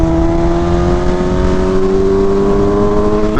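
A BMW M1000RR motorcycle engine hums at a steady high pitch while riding on cruise control, loud and close with wind noise, holding a constant tone.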